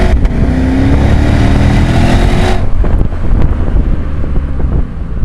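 A 2024 Lexus IS500 engine in Sport Plus mode revving hard with a rising roar and strong wind buffeting, then cutting off abruptly partway through into a lower, rumbling idle-like drone.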